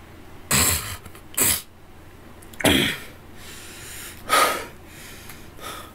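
A person coughing in four short, forceful bursts spaced a second or so apart, close to the microphone and breathy, with quiet room background between them.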